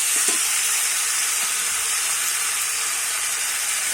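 Prawns, potatoes and figs sauté in a pan, giving a steady, loud sizzle and hiss that holds without pause and with no voices.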